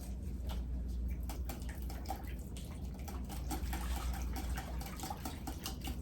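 Bouillon and liquid whisked in a baking dish: a soft, continuous wet swishing with small splashy clicks, steady and close, over a low background rumble.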